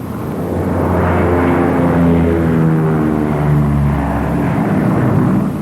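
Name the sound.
Lockheed P-38 aircraft engines while circling to land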